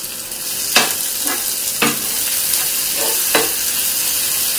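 Vegetables being mixed with masala on a hot frying tava for tava bhaji, with a steady sizzle broken by four or five sharp scraping strokes of a spatula against the pan.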